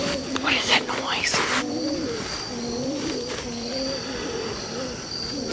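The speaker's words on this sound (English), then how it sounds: "It's a bird." Pigeons or doves coo in repeated soft, rolling phrases, more than one bird, at moderate distance over a faint steady insect hiss in an outdoor setting.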